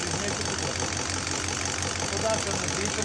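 A car engine idles steadily while its idle speed is being adjusted, a close, low, even running hum with a faint knocking pulse.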